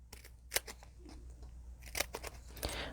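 Scissors snipping paper butterflies for a scrapbook page, a few crisp close cuts spaced irregularly with soft paper rustling between them.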